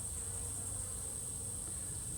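Honeybees buzz inside a cup, a dense continuous hum of many wings with a high steady whine on top, close and unbroken, with no voices.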